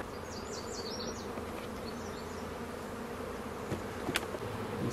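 Honeybees buzz around an open hive during frame inspection for a colony split, a dense steady drone with individual bees passing close by now and then. No speech.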